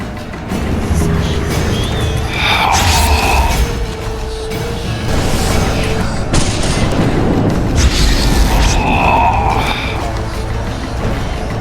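Bombardment in a Witcher 2 cinematic: heavy booming blasts and crashing impacts roll through the scene with dense battle noise, and shouting voices sound over the chaos.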